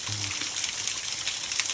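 Water flows and trickles inside a rock cave, a soft, constant gushing wash that is faint and continuous, with no talking heard.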